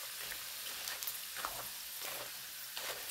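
Prawn crackers fry in very hot oil, giving a steady hissing sizzle with crackling bursts that rise and fall throughout, close and alone with no voices.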